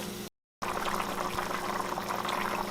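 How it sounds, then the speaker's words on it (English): A pot of beef stew with beef broth simmers toward a boil, giving a steady close bubbling and churning with no voice, broken by a brief silent gap near the start. "adding the beef broth too, bring it up to boil"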